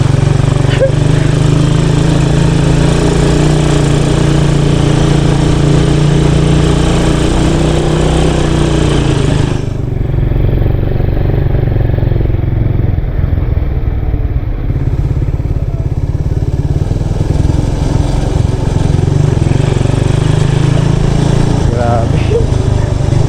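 A motorcycle engine drones loudly and continuously while riding over a rough road, with rattling and clatter throughout, briefly easing midway, while people talk over it.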